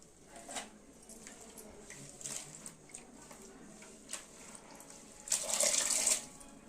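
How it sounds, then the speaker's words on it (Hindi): Bathua leafy greens being washed in water, tap water running and splashing as the leaves are rinsed, with soft sloshes and a louder burst of flowing water near the end, close and alone. "ये भाजी ला मैं पहले सुधार डरे रहे हबो ते भाजी ला धो के निकाल लेना है।"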